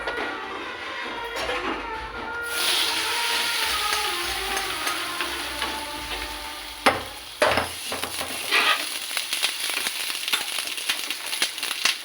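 Tempering crackling and sizzling in hot oil for a mint and coriander roti pachadi, with steady frying hiss, stirring noises and a few sharper pops and clatters toward the end, no talking.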